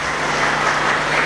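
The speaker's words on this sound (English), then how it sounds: "Everybody clap them." Conference audience clapping for a panel of speakers at a green technology and management event, a dense steady wash of applause filling the whole short stretch.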